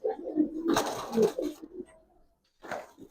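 Giribaz racer pigeons give soft, throaty coos up close, a cluster of calls followed by a pause and one more short coo.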